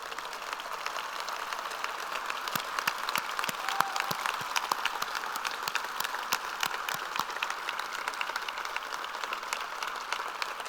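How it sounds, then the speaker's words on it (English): Audience applause at a service recognition luncheon, continuous moderately loud clapping from a room of guests with distinct individual claps standing out, sustained without pause. "Can I please ask Min Min, Eric, Donald, and Sharada to stand for a round of applause?"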